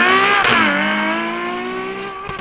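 Ferrari 812 Competizione V12 engine pulling hard while driving, a loud sustained harmonic roar that dips in pitch briefly, then holds steady and slowly fades.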